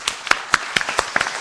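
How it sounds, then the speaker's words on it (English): A panel discussion's audience breaks into applause, though only a few distinct, fairly close claps come through in a quick, uneven series, sounding more like scattered individual hands than a full crowd. "Round of applause."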